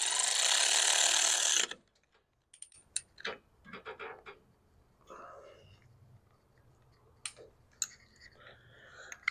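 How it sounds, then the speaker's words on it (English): A ratchet tightens a 10 mm bolt on a vehicle part, giving short bursts of quick clicking with quiet pauses between them, heard close, after a brief loud rushing noise at the start. "I'm going to set this in here and then just tighten down that 10 mil bolt"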